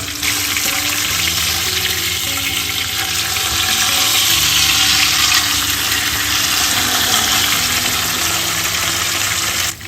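Karimeen (pearl spot fish) frying in oil in a pan on a low flame, a steady, dense sizzle that stays loud and unbroken for the whole stretch, close up with no voices.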